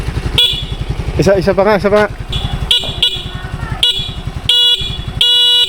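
Horn of a Yamaha Mio Fazzio scooter blaring in several short, loud, close honks between brief pauses, over a steady idling engine, with a person speaking briefly midway.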